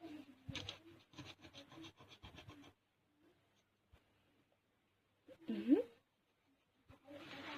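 A knife slices through rolled cinnamon roll dough for a homemade Cinnabon-style bake, giving soft rubbing, scraping cuts in a quick run of strokes, a pause, then one louder stroke and more scraping near the end.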